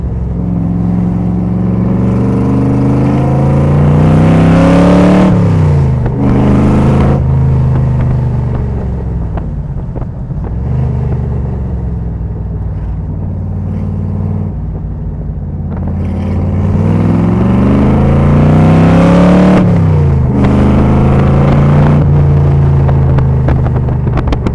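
A Shelby Cobra replica with a 350 Chevrolet V8 accelerates hard through several rising gear pulls, its loud, close engine note climbing and dropping between shifts with no voices over it.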